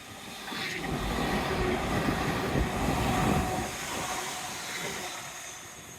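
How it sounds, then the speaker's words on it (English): Train passing along the Dawlish seawall by the sea: a steady rushing roar of wheels and hiss swelling in the middle and easing off, with no talking. "you want to know about trains. There we are, train."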